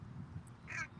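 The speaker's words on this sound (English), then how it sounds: "There were a couple of crows up here in the trees." A single crow caws once from trees in a park, a short, harsh call at moderate distance over faint background ambience.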